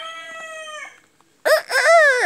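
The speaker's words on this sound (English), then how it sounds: "this as you can see, that's the rooster and the chickens." A rooster crows loudly nearby in Puerto Rico, a long harmonic call that trails off, followed after a short pause by another strong crow.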